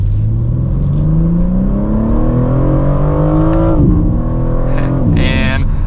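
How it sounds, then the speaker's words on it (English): A 2024 BMW M4 Competition Convertible accelerates hard from inside the cabin, engine note climbing steadily through the revs, dipping at a gear change, then pulling again before easing off near the end. "let's give it one more acceleration for today's video."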